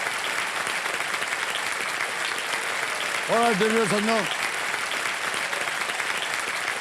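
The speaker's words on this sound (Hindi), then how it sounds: "तालियां बज जाए जोरों से नमिश के लिए" Studio audience applause for contestant Namish on KBC Season 16, a dense, steady wash of clapping that fills the whole stretch, with a voice rising briefly over it midway.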